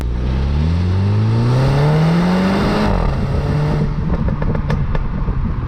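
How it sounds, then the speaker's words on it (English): A 2017 Mini Countryman Cooper S ALL4 engine revs hard, its pitch climbing steadily before dropping, with loud crackling pops from the exhaust as it settles. "This car also has a rather fruity exhaust system, which sounds like this."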